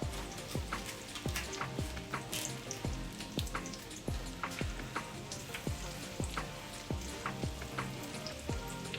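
Breaded chicken cordon bleu fries in hot oil with a dense, continuous crackling sizzle. Evenly spaced low thumps sound beneath it, and nobody speaks.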